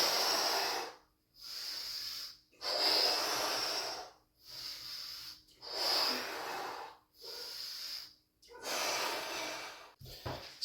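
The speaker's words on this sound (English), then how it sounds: "you're exhaling and inhaling and making sure to completely evacuate your lungs when you're exhaling" Forceful breaths during a crunch exercise, with a series of loud, hissing exhales and inhales separated by short silent pauses in a steady rhythm, close to the microphone.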